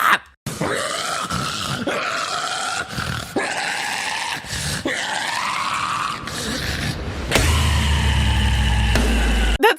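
A man vocally imitates a guttural metal vocal that resembles an aggressive snore, giving a series of harsh, rasping growls and groans with brief pauses between them.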